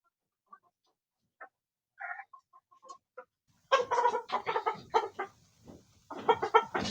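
A chicken being vaccinated with an injection in the thigh for Ranikhet disease gives a few sparse clucks, then bursts into loud, agitated squawking and cackling, close up with no talk.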